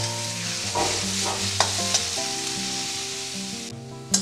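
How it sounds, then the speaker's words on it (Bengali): Pieces of bottle gourd fry lightly in a pan for a milk pudding, a steady close sizzle with a few scraping stir clicks and one louder clatter at the end; nobody speaks. "বেশি ভাজবো না, এটা হালকা করে একটু ভেজে নেব।"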